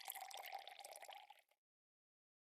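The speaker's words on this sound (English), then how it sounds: "Fill the jar with water." Water trickles and splashes into a glass jar for about a second and a half, a close, bright pouring sound that stops abruptly, followed by silence and a sharp noise at the very end.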